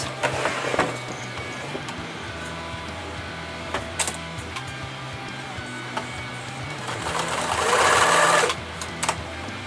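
A sewing machine stitches the folded end of a rollup backpack in steady whirring runs, with a louder, faster burst near the end and a few clicks between.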